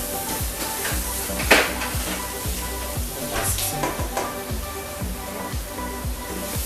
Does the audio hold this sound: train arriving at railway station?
no